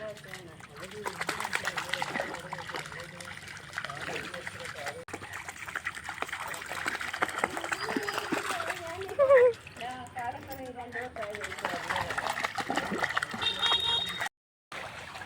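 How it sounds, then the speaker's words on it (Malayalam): A dog splashes in water, with splashing and trickling through most of the clip, people talking over it and a brief gap near the end. "റെയിനി ഭയങ്കര എക്സൈറ്റഡ് ആണ് ആള്. വെള്ളത്തിൽ ഇറങ്ങിയിട്ട് കളിയാണ്."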